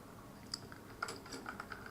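Computer keyboard typing, a quick run of light clicking keystrokes, close and fairly quiet, with no voices.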